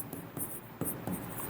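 Pen scratching across paper while working a linear equation in a class 7 maths lesson, a few short strokes close by with brief pauses between them, faint and on its own.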